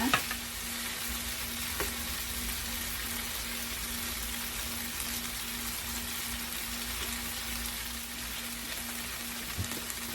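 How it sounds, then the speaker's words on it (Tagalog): Pancit sotanghon glass noodles stirring and frying in a pan, a steady broadband sizzle running the whole time with soft scraping of the stirring underneath and a low constant hum, close and even. "Haluin natin haluin siguro mga 5 minutes ito."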